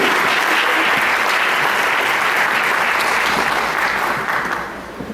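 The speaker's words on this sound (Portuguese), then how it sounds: "gostaria de entoar uma salva de palmas para elas" An audience at a talk gives a sustained burst of dense clapping that holds steady for several seconds before tapering off at the end, with no speech over it.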